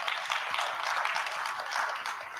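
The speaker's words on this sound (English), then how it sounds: "another round of applause to the champion himself" Steady round of audience applause at a World Tourism Day sustainable tourism conference, many hands clapping in a dense, even wash without pauses.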